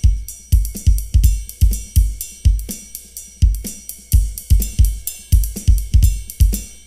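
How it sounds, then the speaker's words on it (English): A drum kit plays a steady groove packed with soft ghosted snare notes between the louder backbeat hits, a close, punchy, continuous rhythm with no talking. "So when you get going and doing a lot of ghosted notes,"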